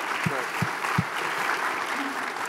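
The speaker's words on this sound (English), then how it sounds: "Let's give him a round of applause because the council passed that incredibly important bill" Audience members at a town hall meeting break into a steady round of applause, dense clapping held at an even, fairly loud level throughout.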